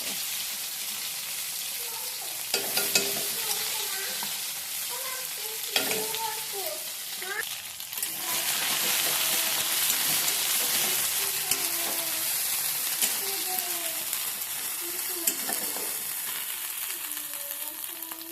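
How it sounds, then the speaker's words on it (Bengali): Papad dropped into hot oil in a pan with black cumin seeds, giving a strong, crackling sizzle with stirring scrapes that swells after a few seconds and carries on steadily, close up, with faint voice traces. "এবার তেলের উপরে পাপড়টা দিয়ে"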